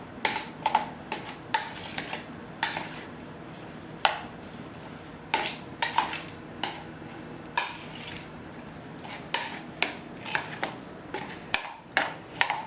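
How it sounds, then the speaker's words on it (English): Shrimp being stirred with lime juice in a bowl for tequila lime shrimp tacos, heard as a run of close, sharp clicks and taps of a utensil against the bowl in an irregular rhythm. "And we're just going to give it all a stir here."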